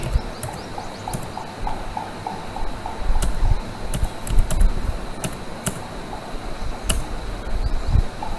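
Sharp computer clicks advance PowerPoint slides during a presentation, several quick taps spaced irregularly over a steady room hum and faint fan noise, with no voices.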